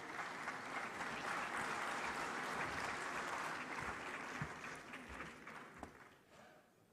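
An audience at the 30th Afreximbank Annual Meetings applauds the representative of the President of Comoros, a broad, sustained wash of clapping that holds steady and then thins out and fades near the end.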